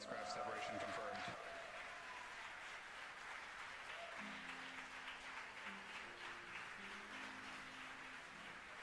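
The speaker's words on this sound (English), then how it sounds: "the folks who watched the mission cheering" A crowd watching a SpaceX Falcon Heavy launch of Arabsat-6A keeps up steady, far-off applause and cheering, a dense wash that lasts throughout. A loud rush and a voice come at the start, and faint tones sound later.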